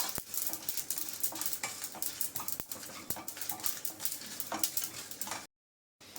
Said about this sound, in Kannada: ಸಾಸಿವೆ ಚಿಟಿಟಿ ಅಂತ ಇದೆ